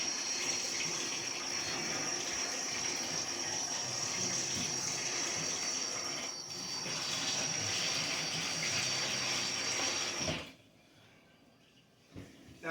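Tap water runs steadily into a sink, a bright continuous hiss and splash close by that cuts off abruptly near the end, leaving quiet with a brief knock.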